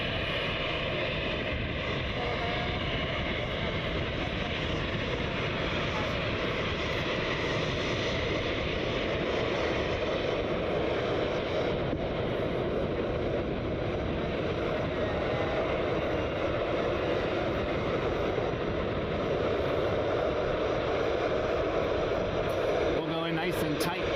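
An Airbus A319 airliner on a flight to Philadelphia passes at Cleveland Hopkins International Airport, a steady loud roar of jet engines that holds for over twenty seconds.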